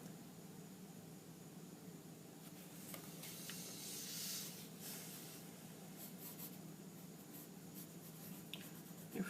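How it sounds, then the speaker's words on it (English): A pencil or pen scratches steady strokes across paper while sketching the legs of a figure, a soft close-up rubbing that continues alone through a calm, quiet room, with a few slightly louder strokes midway. "Let's draw his other leg, line to his knee, and line down."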